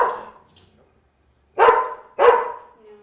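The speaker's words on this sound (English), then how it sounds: "Are you going to bark at Goaty?" A dog gives two loud, close barks in a row after a trailing bark or yelp at the start, with quiet gaps between.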